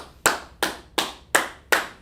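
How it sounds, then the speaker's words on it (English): Five sharp hand claps ring out at an even, steady pace, loud and close, in a classroom-style group session with no talking over them. "Put some hand claps in there, guys."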